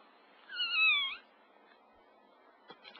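A newborn puppy gives a single thin, high, cat-like mewing cry, close and faint, followed by near silence with a few soft rustles.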